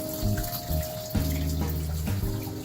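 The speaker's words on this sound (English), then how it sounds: "I'm seeding this with tank water" Reef tank water pouring into a container to seed it, a continuous splashing flow with shifting tonal gurgles, heard close and without speech.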